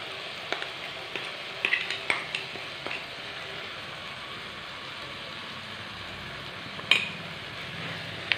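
Tomato and spice masala stirred in a pan, a soft steady sizzle under scattered spoon taps and scrapes, close but fairly quiet, with a low rumble in the background.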